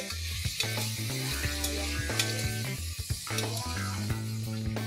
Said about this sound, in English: Saute this mutton till it becomes slightly brown